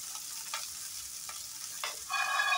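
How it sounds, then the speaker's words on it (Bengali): Garlic, peanuts and cashews frying in a pan, a steady close sizzle with a few stirring scrapes, the sizzle growing louder near the end, no talking. "সব কটা জিনিস ভালো করে ভেজে নেব"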